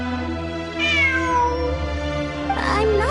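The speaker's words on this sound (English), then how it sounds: "It really is a cat." A cat meows in the video game Genshin Impact, two drawn-out rising and falling cries over a low, steady game ambience.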